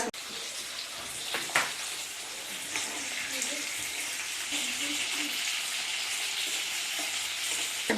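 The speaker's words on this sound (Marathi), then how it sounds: "मिरच्या छान भाजून घ्यायच्या आहेत" Green chillies roast in a hot pan, giving a continuous crackling sizzle with occasional scraping and stirring knocks close by, while a voice speaks faintly underneath.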